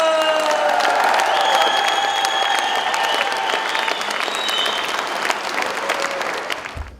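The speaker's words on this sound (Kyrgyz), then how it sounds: "Кежи Групп компаниясына бир кол чаап коюңуздар." A crowd claps in steady, sustained applause at a ceremony where a two-room apartment is given to a family with ten children, loud throughout and fading at the very end.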